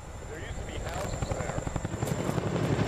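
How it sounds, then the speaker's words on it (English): A Chinook medium-lift helicopter carrying sandbags slung underneath during flood-wall repair work: a steady rotor drone with rhythmic chopping beats, moderately close and growing slightly louder, with no talk. "So that's a Chinook helicopter."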